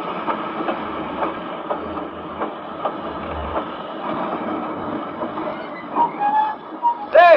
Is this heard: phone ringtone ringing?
no